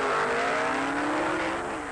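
Ford Pinto pro stock drag race car at the 1972 NHRA World Finals in Amarillo, its engine roaring loud and close at full throttle, the pitch climbing steadily through a gear with no talk over it.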